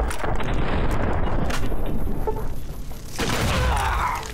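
Heavy gunfire and explosive booms from a shootout in the video game Fallout New Vegas, loud and dense throughout with a rumbling low end and a short dip near the middle before more blasts.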